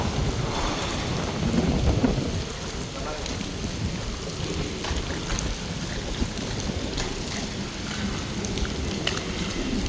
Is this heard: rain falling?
yes